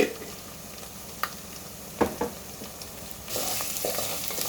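Chilli powder is stirred into country chicken curry in a hot pan, a steady sizzle and fry with a few sharp scrapes and clinks of the spoon against the pan, close and fairly quiet.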